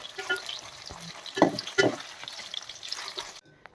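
Cauliflower florets fry in hot oil over a medium flame, a constant crackling sizzle broken by a few louder spatters and scraping stirs before cutting off abruptly near the end.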